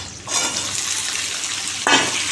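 Potatoes tipped into hot refined oil with green chillies set off a loud, steady frying hiss, with a sharper burst of sizzle near the end as more goes into the pan.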